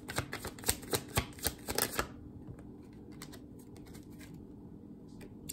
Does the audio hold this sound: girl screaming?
no